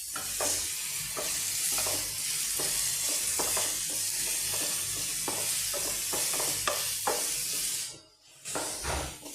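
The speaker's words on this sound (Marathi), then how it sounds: "पयलीं कांदो बरो भाजून घेवया." Onions fry in a pan with a steady loud sizzle, broken by repeated scraping strokes of a spoon, before the hiss briefly drops away and returns near the end.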